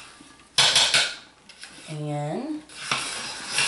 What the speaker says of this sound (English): I just stir it really nicely.